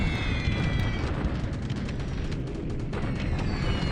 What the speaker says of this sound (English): More bombing.